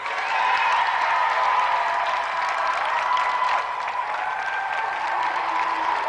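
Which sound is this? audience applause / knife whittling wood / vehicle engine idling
audience applause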